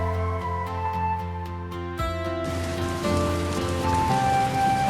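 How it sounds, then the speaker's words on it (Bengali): Rain falls as a soft broadband hiss that grows fuller after the first couple of seconds, partly masked by steady sustained musical tones. "বৃষ্টি পড়ছে"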